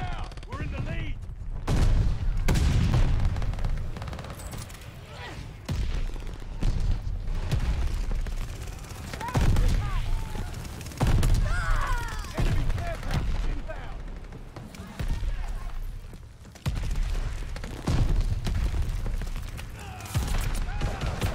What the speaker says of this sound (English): Mortars incoming.